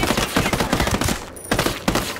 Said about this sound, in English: Sniper's about to shoot at us.